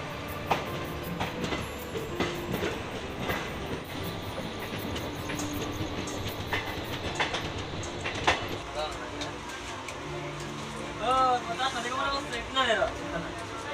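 A Garib Rath Express train (12881, Shalimar to Puri) running, with a steady rumble and rail noise throughout and speech over it.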